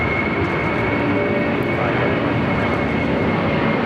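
A large airplane makes a low pass over LAX during plane spotting, its engines roaring loud and close in a broad, sustained rumble that holds steady throughout.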